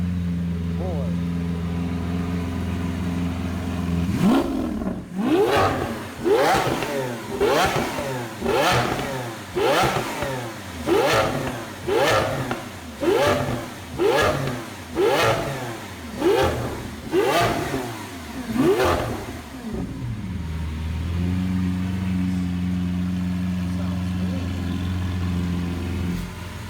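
A Lamborghini Aventador LP 700-4's idling engine breaks into a long series of rhythmic, repeated throttle revs, each rising and falling with loud exhaust and fuel-rich bangs, then drops back to a steady idle.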